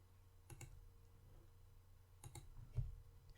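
Mouse clicks while working in the Power Query editor: two quick click pairs, a third pair about 1.7 seconds later and one more click, all close and crisp over a faint background hum.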